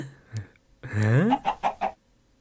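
A chicken gives a drawn-out squawk and then several quick, sharp clucks close by, with quiet gaps before and after.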